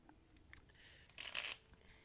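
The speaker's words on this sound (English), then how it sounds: "she picks up her cards and starts shuffling them" A deck of tarot-style cards is shuffled at a tabletop role-playing session, heard as one quiet, close riffle lasting about a third of a second among faint handling rustles.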